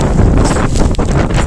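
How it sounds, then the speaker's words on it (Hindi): Strong wind gusts outdoors in a village during heavy rain, loud buffeting across the microphone in uneven surges with a rushing, rumbling roar. "तेज़ हवा चल रही है और कितनी तेज़ बारिश आ गई है"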